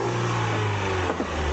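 Freshly rebuilt Ford Fiesta engine with newly shaved heads revs hard and steadily at close range, a loud continuous rising drone with no talk over it.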